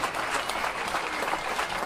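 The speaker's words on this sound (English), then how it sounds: "Zander was applauded by strangers at the airport" Strangers in an airport arrival hall applaud a returning soldier, a steady dense wash of clapping from a crowd with no talk over it.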